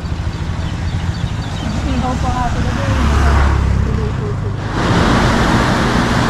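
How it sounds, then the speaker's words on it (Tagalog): Strong ocean waves wash and roar along a shore near a mountain, mixed with wind and passing vehicle noise as someone rides by, with a voice speaking faintly at moments. "Lakas ng alon ngayon."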